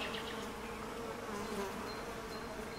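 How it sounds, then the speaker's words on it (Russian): Bees buzz steadily among flowers on a mountain property in Montenegro, a continuous close, even drone with no talking. "Смотрите, как пчелы жужжат."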